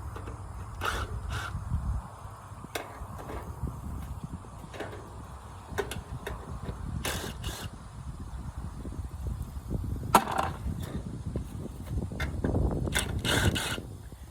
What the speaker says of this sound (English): Take all these little screws out. Holding this cage on.